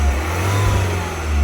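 Car engine fitted with an induction kit not designed for that car, revving loud and close with a deep, throaty intake roar that holds steady, alone without talk.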